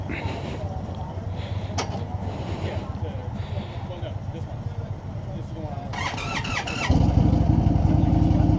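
An Indian Chieftain Limited cruiser motorcycle engine rumbles steadily, with some talk early on, then fires up louder near the end and holds a deep, heavy idle.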